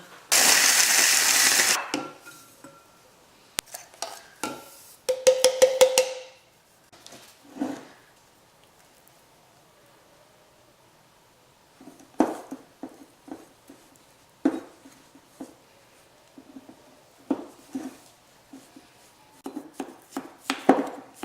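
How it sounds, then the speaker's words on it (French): A blender grinds wafers for homemade Ferrero Rocher in a short, loud burst of under two seconds, then scattered knocks and rattles from the container continue quietly. "la première chose à faire, c'est qu'on va mixer les gaufrettes"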